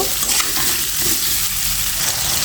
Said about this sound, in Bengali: আলুটা ভাজার জন্য এটা আমি সুন্দর করে নেড়ে করে ভেজে নেব